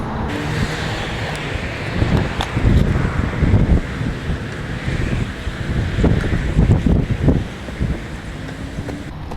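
Gusty wind buffets an outdoor street-side spot while tent and banners are set up beside a van, a steady roar with rising and falling surges and faint traffic underneath.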